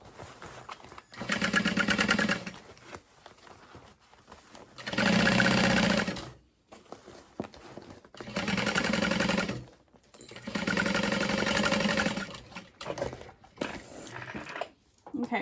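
Sewing machine stitching a seam on the lining of a small Tribbiani Traveler bag, sounding in four steady whirring bursts of a few seconds each, separated by quiet pauses with faint handling.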